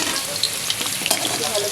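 Close, continuous sizzle of potatoes frying in oil in a kadai, with a couple of light stirring clicks and no talking.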